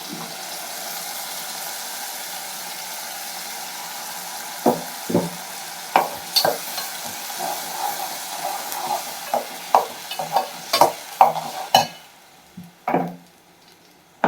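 Onion and tomato paste frying in a pan for a Tamil fish curry with dried anchovies, drumstick and lima beans, a soft steady sizzle broken by sharp scraping and clinking stirring strokes that grow more frequent toward the end.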